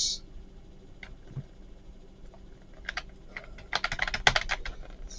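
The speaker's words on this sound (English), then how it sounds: "This is a keyboard." Someone types on a computer keyboard: sparse isolated key taps at first, then a quick cluster of close clicking keystrokes toward the end, quiet and without talk.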